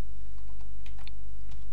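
Keys clatter on a computer keyboard as an SQL query is typed, several scattered keystrokes over a steady low background hum.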